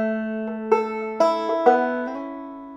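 Two-finger thumb-lead banjo picking a short measure, mostly on open strings: a handful of bright plucked notes in an even rhythm, each ringing and decaying. Close and clear, with no voice.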